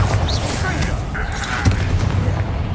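A Bombarda blasting spell detonates in the Hogwarts Legacy video game, a dense booming burst with a sharp crack midway amid continuous rumbling combat noise.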